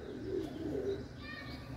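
A rooftop pigeon gives a soft, low cooing call near by, a brief murmur lasting under a second over faint background noise.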